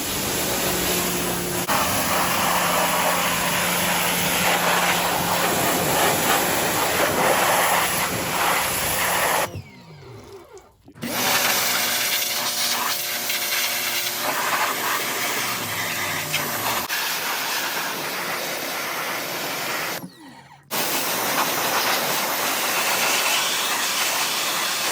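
A pressure washer sprays down a motorcycle, a steady loud hissing spray running almost the whole time and broken by two brief pauses where the trigger is released.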